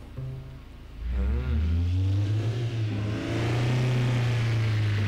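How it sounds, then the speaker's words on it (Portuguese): Car engine in the City Car Driving video game cranking to life and settling into a steady revving drone, loud and continuous. "Liguei o carro."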